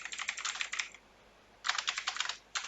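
Typing on a computer keyboard to enter a search query in Hindi, with two close bursts of rapid, crisp keystrokes separated by a brief pause.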